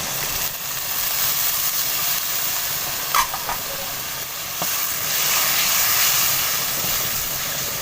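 Tomatoes softened with garlic-ginger paste fry in a pan for kaleji masala, giving a steady broadband hiss and sizzle throughout with a couple of faint utensil taps, no talk.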